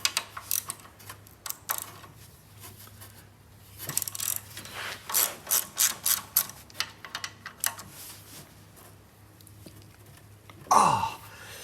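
Ratchet wrench clicking in uneven bursts while loosening the 11 mm cylinder head nuts on a VW Type 4 engine during a teardown, close and fairly loud, with a louder scrape near the end.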